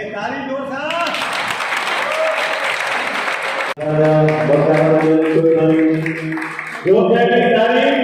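At a Sindhi community honour ceremony, an audience breaks into a burst of loud clapping mixed with voices, then gives way to amplified chanting and speech over a microphone.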